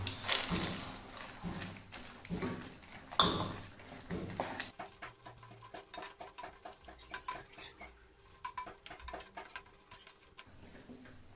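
Gathiya is stirred into curry in a pot, a spoon knocking and scraping against the metal in irregular clinks. Louder strokes come at the start, then softer, quicker taps and scrapes follow.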